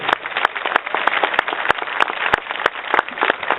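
An audience claps together at a community event outside a South Los Angeles sheriff station, a steady dense patter of hands with sharp individual claps standing out, fairly close.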